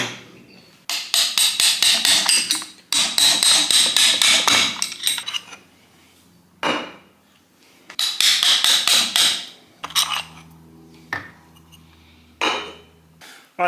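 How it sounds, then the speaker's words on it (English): Hammer and punch driving piston pins out of Harley Panhead pistons, bursts of rapid, loud metallic blows in several long runs, then a few separate strikes with ringing metal between, close and with no talking. "I had to take these out with a hammer and a punch"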